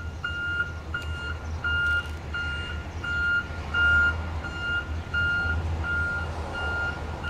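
Diesel truck backing up, its reversing alarm beeping in a steady, evenly spaced series over a low, continuous engine rumble at moderate distance.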